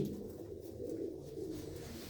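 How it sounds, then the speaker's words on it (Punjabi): A flock of pigeons kept by a fancier coos softly with a low, steady murmur, and the calls overlap and stay faint throughout. "ਬਾਈ ਤੇ ਬਾਲੀ ਚੰਗੀ ਡਾਰ ਵੀ ਆ ਇਹਨਾਂ ਕਬੂਤਰਾਂ ਦੀ"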